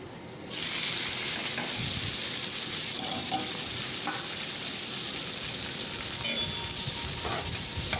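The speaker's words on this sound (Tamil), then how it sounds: "நல்லா பொன்னரமாக வதக்கணும்" Onions sizzle in hot oil with cumin after a brief quiet start, a continuous frying hiss with faint stirring sounds, while cooking egg kurma.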